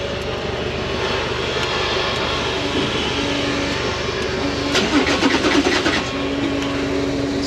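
Lamborghini Murcielago V12 from a movie car cranking and catching, a loud, steady engine roar that surges briefly in the middle with a rough burst of revs before settling back.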